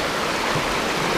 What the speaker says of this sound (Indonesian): Menyeberangi sungai ini.